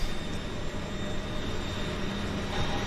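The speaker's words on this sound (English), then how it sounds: "I hear engines, folks. We've got Twin Otter" Twin Otter floatplane engines at a float base drone steadily and fairly loud, a continuous turboprop roar with a faint whine, heard from an observation deck with no talking over it.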